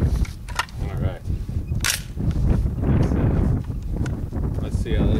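A suppressed rifle shot with a Gemtech suppressor firing Farro's Lead Farm 55 grain soft-point ammunition outdoors, a few sharp reports over steady wind noise.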